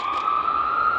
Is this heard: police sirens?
yes